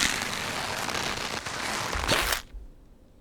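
A spiderweb exit sound effect from the game Sulfur: a dense, crackling, sticky rustle runs steadily for over two seconds, swells briefly, then cuts off abruptly into near silence.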